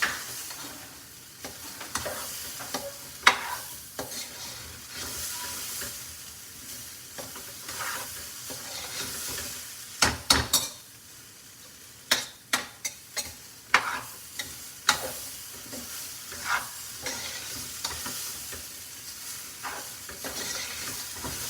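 Khichari with pink salt is stirred in a pot over heat. A soft, steady sizzle runs under intermittent scraping strokes and sharper clicks of the spoon against the pot.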